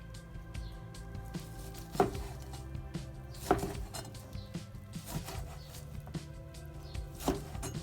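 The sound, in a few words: knife cutting into a cooked Kroger strip steak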